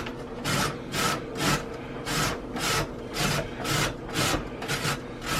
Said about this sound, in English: By grating these carrots